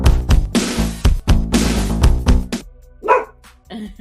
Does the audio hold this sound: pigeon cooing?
no